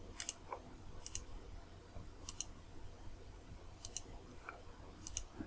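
Computer mouse clicks come in quiet, sharp pairs, five double clicks spaced about a second apart over a faint room hum, with no talking.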